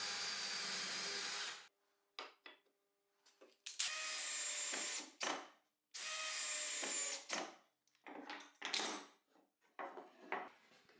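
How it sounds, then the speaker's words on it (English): A power drill driving screws into a wood frame for a folding workbench table sounds in several loud bursts of a few seconds each, separated by short pauses with small clicks and knocks, close up and with no talking. "To screw in the back part, I'll use a wood block with the exact measurements as a jig to make the process easier."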